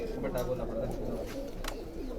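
Cooing of pet pigeons kept by a breeder, soft low coos repeating steadily up close under a constant background hum, with several brief sharper sounds, likely bird calls, rising over them.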